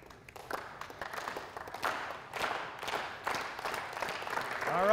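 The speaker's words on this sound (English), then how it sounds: "now we're going into slow clap for some reason" An audience at a team captain lecture starts a slow clap: single sharp claps in an even beat of about two per second, gradually building in loudness.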